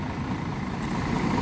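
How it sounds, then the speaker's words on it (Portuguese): A Mercedes-Benz O500 RSDD coach bus idles in a garage shortly after arriving. Its engine gives a steady, low, rumbling drone that holds even and unbroken throughout, with no voices. "Vamos escutar um pouquinho do motor desse bruto aí, ó."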